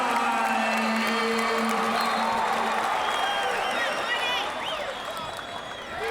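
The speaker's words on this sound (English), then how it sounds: "Listen to that crowd. Listen to that crowd." An arena crowd at a 74 kg wrestling match between Jordan Burroughs and Kyle Dake at the 2013 World Team Trials roars and applauds steadily as the bout goes to overtime, with scattered whistles and shouts and a commentator talking over the noise.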